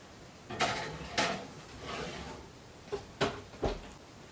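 An oven door closing as a tray of chicken breast topped with tomatoes goes in to bake: a handful of dull clunks and knocks spaced over a few seconds against quiet kitchen background.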